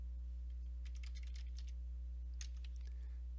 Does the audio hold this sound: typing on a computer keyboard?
yes